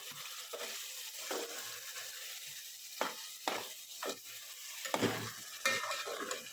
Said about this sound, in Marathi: एकसारखं हलवून घ्यायचं आहे